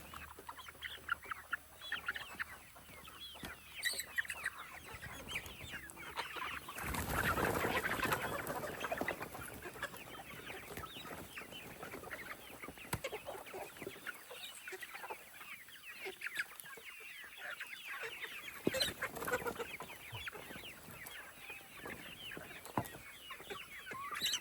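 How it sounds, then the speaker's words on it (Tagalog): Free-range hens cluck and murmur steadily in a group while being fed papaya, with a brief burst of louder flapping and scuffling partway through, outdoors. "excited na excited po yung mga alaga nating manok"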